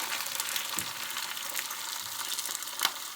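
Food for a breakfast skillet frying in a pan, a close steady crackling sizzle with occasional sharper pops, no talking.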